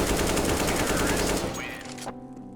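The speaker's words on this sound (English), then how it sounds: "This is a useful wallbang to counter the terrorists holding the sniping spot in banana." Rapid automatic gunfire from a CS:GO match, fired through a penetrable wall in the B apartments on the Inferno map, loud dense bursts for about two seconds before cutting off to a fading tail.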